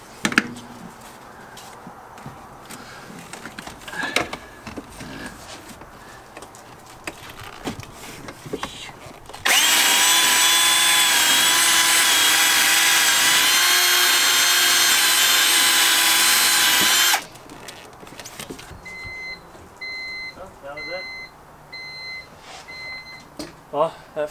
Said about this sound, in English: I'm cleaning that up with a wire brush really quick